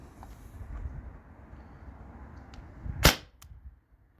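A Byrpro Kinetics Sabre 68 paintball marker running on 12-gram CO2 fires one sharp, loud shot over a chronograph, followed by a fainter click against a quiet background.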